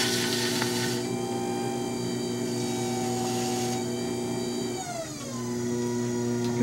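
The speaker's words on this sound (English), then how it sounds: "So I'll start the wheel going again here." Potter's wheel spinning while clay is trimmed: a steady electric motor hum with buzzy harmonics, a brief pitch dip midway as the speed shifts, then the drone settles again.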